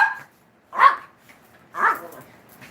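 Dogs barking loudly and close by: two sharp barks about a second apart, with a third clipped at the very start, and quiet between them.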